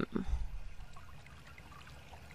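Water trickles and pours quietly in the Indiana Jones and the Emperor's Tomb video game, a low steady watery wash with a brief louder splash near the start and a short burst at the end.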